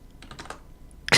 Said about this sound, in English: I can hear you just typing away at your keyboard like it's like a CSI hack.